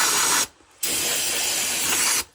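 Brake cleaner, an alcohol aerosol, sprays in two loud, steady hissing bursts close up, separated by a brief pause.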